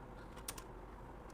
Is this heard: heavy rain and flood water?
no